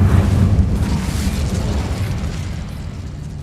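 A loud whooshing burst of flame from the Incendio fire spell in a Harry Potter video game, a heavy roaring blast that starts strong and slowly fades into a rumbling crackle.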